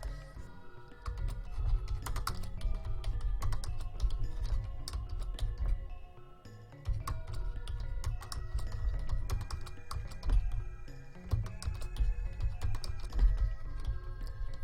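Steady, close typing on a worn computer keyboard, dense clattering keystrokes running continuously with a brief lull near the middle, no voices.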